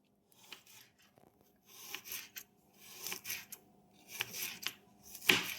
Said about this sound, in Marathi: हे जे 2 लसणाच्या पाकळ्या हे बारीक चिप्स अशा कापून घ्यायच्या आपल्याला